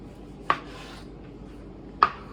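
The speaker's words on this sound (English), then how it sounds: "I'm going to cut it into slices" A knife slices through a tomato onto a cutting board in two crisp, separate chops about a second and a half apart, close and clear against near silence.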